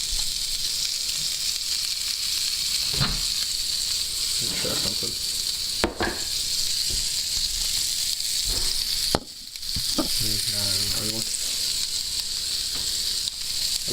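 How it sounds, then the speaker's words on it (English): A salt and sweet steak fries in a pan with a constant, loud, close sizzle throughout. A few clicks and scrapes cut in, and someone briefly speaks under the hiss near the end. "So that's what it looks like while it's cooking and sizzling about."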